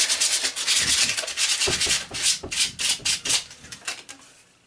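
Sandpaper rubbed by hand across the top of a restored axe, a steady run of close, loud rasping back-and-forth strokes that grow choppier and fade toward the end, with no voices.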